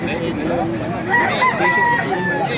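A rooster crows nearby at a chicken market in Baliuag, Bulacan, loud and drawn out, with other birds and faint background chatter around it.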